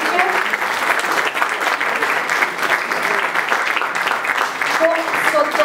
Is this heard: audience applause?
yes